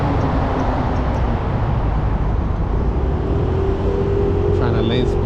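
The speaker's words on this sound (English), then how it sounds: "It's traffic." Steady, loud road traffic roar heard from a vehicle lane splitting on the 101 South freeway in Los Angeles traffic, a dense continuous rumble with passing engine tones and no talking.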